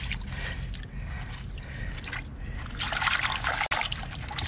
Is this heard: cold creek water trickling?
yes